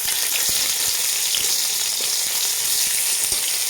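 Chopped onion fries in hot oil with five-spice, a bay leaf and a dried chili, a dense, even, close sizzle that holds throughout with faint crackles and no voices.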